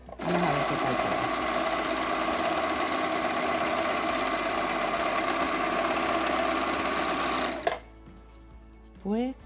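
An overlock serger runs a test stitch on fabric, a loud steady mechanical whirring hum for about eight seconds that then stops abruptly, followed by a short voice.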